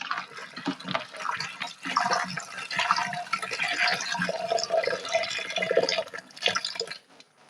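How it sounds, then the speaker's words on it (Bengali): Water runs and drips close by as fish are washed in a bowl with salt and lemon juice, a busy splashing and sloshing that continues for several seconds, then stops abruptly. "লবণ আর লেবুর রস দিয়ে আমি এখন মাছগুলো ভালো করে ধুয়ে নেব"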